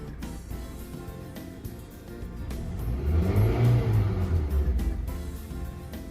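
A 2010 Honda City engine with an unstable idle rumbles low, then revs up briefly and settles back down; no one speaks.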